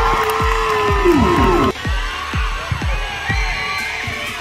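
Crowd cheering and applauding at a box cricket tournament in Varedia: loud, steady cheers and whoops with repeated rising and falling shouts, a commentator's voice running over them.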